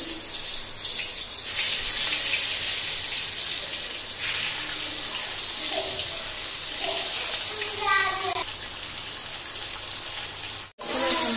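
Water is poured into a frying pan of sliced spiny gourd on the stove, making a steady rushing, hissing wash that stays loud throughout, with a few brief voiced sounds near the end.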